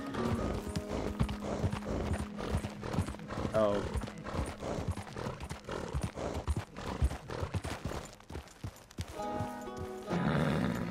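Horse hooves clip-clop at a steady gait while riding in Red Dead Redemption 2, moderately loud under game music and effects, with a brief spoken exclamation over it.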